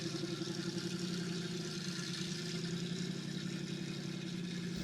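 An original Chevrolet 283 V8, silent for over 30 years, running at a steady idle, a continuous droning hum with an even low throb, close and unchanging.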